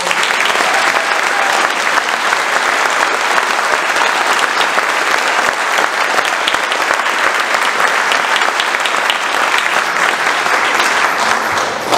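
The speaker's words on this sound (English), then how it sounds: "give her one more round of applause." Concert audience at a holiday symphony performance applauds continuously, a dense, steady wash of many hands clapping that stays loud for the full twelve seconds with no talking.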